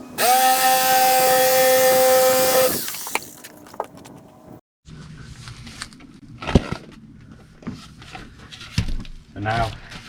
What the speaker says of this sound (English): I'm going to use the jigsaw to do it because it's quick